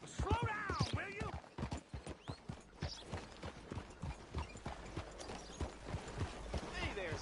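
Horse hooves clip-clopping in Red Dead Redemption 2, a steady rhythmic series of sharp hoof strikes at close range, with a voice speaking over part of it.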